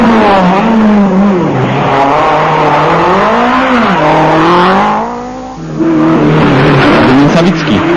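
A rally car at the 1995 Wisła Rally (43rd Rajd Wisły) races with its engine revving hard and loud, the pitch climbing and falling through gear changes and briefly easing near the end before roaring again. A voice may be faintly present.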